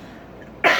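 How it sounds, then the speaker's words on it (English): A single sharp cough bursts out near the end after a stretch of quiet room tone, close to the microphone and fairly loud. "I'm going to cough again."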